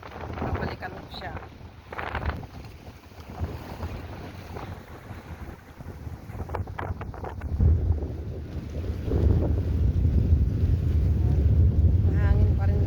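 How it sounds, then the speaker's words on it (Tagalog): Sea wind buffets the microphone on a beach, making low rumbling gusts that swell and build toward the end, with a person talking over the noise early on. "Mahangin pa rin guys"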